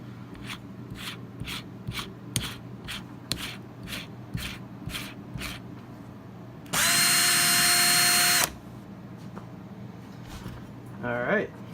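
A Makita 12V cordless drill/driver whirs in a steady high-pitched burst of about two seconds at close range, preceded by a series of rhythmic clicks and handling sounds, with a brief second whir at the end.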